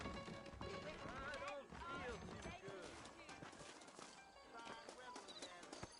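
Horses' hooves clip-clop at a walking pace in the video game Red Dead, under steady conversation between men, with game background sounds.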